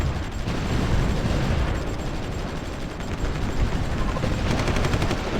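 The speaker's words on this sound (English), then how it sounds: "our artillery is certainly pounding on that bridgehead there" Artillery barrage pounding a bridgehead in the strategy game Supreme Ruler Ultimate, a dense, continuous rumble of booms and gunfire that runs steadily throughout at fairly even loudness.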